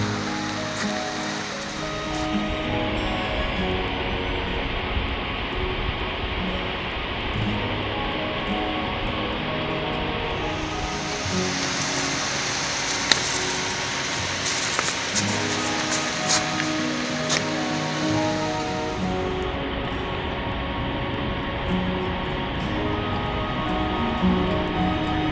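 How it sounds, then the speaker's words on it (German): Rushing water from the waterfalls around the Blautopf spring, a steady broadband roar that continues throughout, thickening for a stretch in the middle, with no speech over it. "ich bin hier wirklich umgeben von Wasserfällen. Hier im Blautopf"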